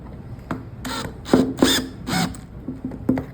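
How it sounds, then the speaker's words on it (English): A power drill drives screws into a DIY furniture base for a dresser or cabinet, giving short whirring bursts and clicks in an uneven series, close and moderately loud. "Let the drill do the work."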